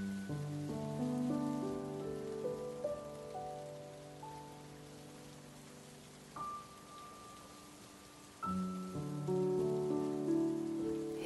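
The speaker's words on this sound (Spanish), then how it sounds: "Escuchas el golpeteo acompasado contra el cristal." Rain taps against window glass as soft, steady background patter beneath calm, sustained tonal music that shifts through several held chords.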